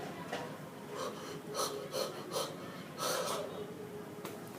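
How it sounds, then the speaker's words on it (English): A person forces a series of breathy yawns, stacking one onto the next, heard as several airy, gasping breaths with a few short snorting catches, close and moderately quiet. "force yourself to yawn and then stack another yawn on top of that yawn"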